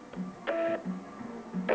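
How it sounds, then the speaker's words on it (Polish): A printer connected to a ZP100 chronometer feeds its paper tape, a faint mechanical whir in short repeated bursts with small clicks between them, with no talking. "Wtedy drukarka, która jest podłączona, wykona przewinięcie taśmy."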